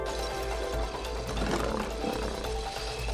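A lion's roar in a video game rumbles steadily for a few seconds over a dense layer of game sound, loud and close.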